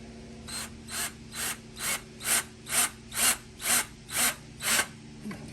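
A Ryobi drill drives a screw into a shelf, giving about ten evenly spaced ratcheting bursts roughly twice a second, close and moderately loud over a low hum.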